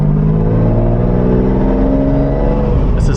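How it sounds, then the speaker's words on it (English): A Lamborghini Diablo engine revs loudly and close, its deep exhaust note rising and falling with a rough, throaty growl throughout. "It starts to pop more on the exhaust once it's warmed up."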